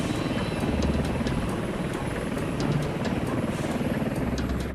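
A helicopter roars loud and steady overhead during a wire hoist rescue, its engine and rotor noise filling everything with a constant dense rumble.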